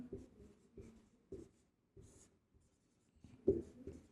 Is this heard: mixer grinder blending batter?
no